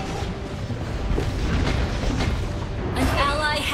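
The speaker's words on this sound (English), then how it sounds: "Your team destroyed the turret!" A turret being destroyed in the Mobile Legends video game, a loud, dense booming explosion roar that fills the clip before a bright game effect and announcer voice break in near the end.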